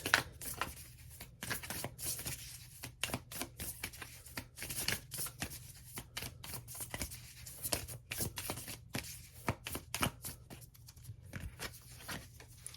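Oracle cards being shuffled by hand before one is drawn, a steady run of soft papery riffles and flicks, close and fairly quiet, with no speech.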